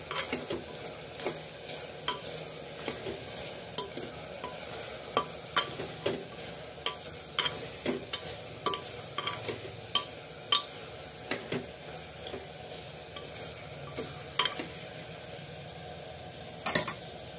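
Spices for a potato and eggplant curry frying in a pan, a continuous soft sizzle broken by regular scraping stir strokes against the metal every second or so, close and unaccompanied by speech.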